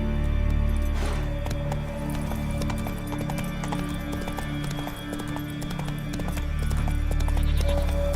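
A horse gallops in The Witcher 3 on PC, its hooves pounding in a loud, continuous rapid clip-clop rhythm, with a brief whinny, over a steady low game soundtrack.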